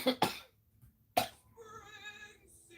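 Phlegmy cough from a Mucinex advert: two quick wet coughs, a pause, then a third single cough, close and clear, followed by a soft musical jingle.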